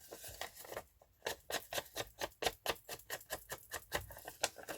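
Rain patters in quick, irregular bursts of drops on a nearby surface, fairly faint and steady throughout, with no voices.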